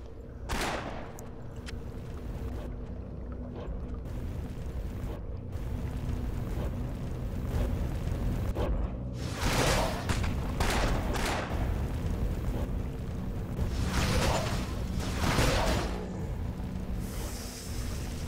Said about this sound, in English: These fire traps, by the way, also affect my enemies.